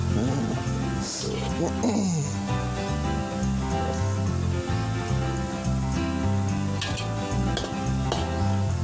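Mandai, fermented cempedak skin, frying in a pan, with a steady close sizzle and occasional stirring scrapes and utensil clinks throughout.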